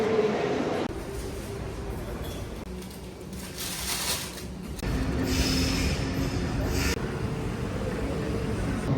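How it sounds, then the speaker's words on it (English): Steady rumble of a train in a busy Swiss station, with a rolling, clattering roar, faint high squeals, and murmuring crowd noise throughout. "quite busy obviously because it's such a big train station"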